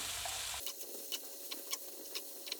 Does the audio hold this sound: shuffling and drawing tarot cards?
no